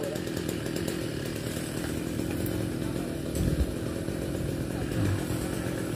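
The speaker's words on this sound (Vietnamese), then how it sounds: "Anh sẽ tiến hành cưa cái đọt." A chainsaw cutting the top off a coconut palm runs steadily, its rough buzzing engine constant throughout, at close range with slight surges in intensity.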